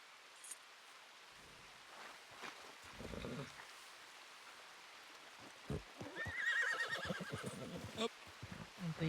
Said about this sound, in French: Attention au cheval